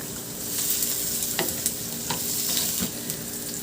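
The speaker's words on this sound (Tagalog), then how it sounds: "igisa ko na yung bawang" Garlic sautéing in a clean frying pan gives a steady close sizzle, with a few sharp stirring scrapes and clicks of a utensil against the pan; no one speaks.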